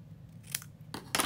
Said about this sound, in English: now I'm going to snip